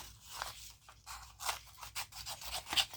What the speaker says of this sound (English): And next to it is the big pair scissors.